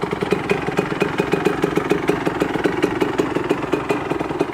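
A rebuilt Yamaha YZ125/YZ144 two-stroke motorcycle engine with a new crank runs steadily close by, its rapid, even firing pulses forming a continuous buzzing idle with no talk over it.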